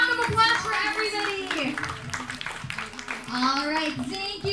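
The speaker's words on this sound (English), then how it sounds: "One more round of applause for everybody." Audience at a children's craft awarding ceremony at KidZania Manila claps in a dense, continuous burst, with children's voices and chatter mixed in throughout.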